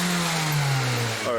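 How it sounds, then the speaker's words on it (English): A Hyundai Elantra engine with one injector disconnected revs up while misfiring, a rough, steady mid-pitched drone that holds and then drops off near the end, recorded close by. "I'm gonna go inside the vehicle and rev it up. It's misfiring right now because we have one injector disconnected."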